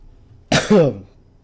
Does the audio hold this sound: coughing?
yes